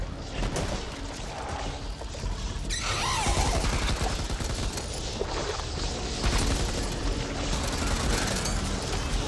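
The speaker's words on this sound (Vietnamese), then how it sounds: "tôi cầm cái súng máy mà tôi nhảy như đúng rồi á" Sustained machine gun fire in the co-op zombie shooter Back 4 Blood, rapid shots rattling on for seconds with clattering game mechanisms and impacts mixed in, loud and close.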